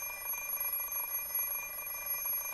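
An alarm clock rings in the visual novel Fate/stay night, a continuous high electronic beeping tone at steady volume, with no voices.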